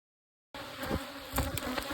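Angry honey bees buzzing around a hive during late-summer splits, a close, continuous droning hum with individual bees zipping past the listener, starting abruptly after a short silence.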